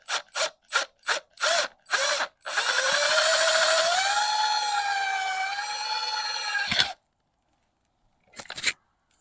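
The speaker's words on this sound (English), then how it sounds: "So let's go ahead and drive our screw in." Power driver spins a self-tapping screw into a Subaru Legacy Outback crankshaft seal: several short ratcheting bursts, then one long steady whining drive of about four seconds that stops abruptly, and a final brief burst after a pause.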